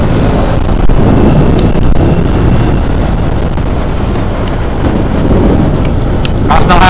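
Loud, constant roar of strong wind buffeting the microphone, a heavy rumbling blast that never lets up.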